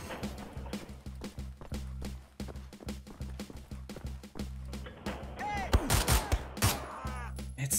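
Dual handguns fired in Wolfenstein: The New Order, a steady string of quick, sharp shots at close range, followed by a louder, messier burst of impacts and mechanical clatter near the end.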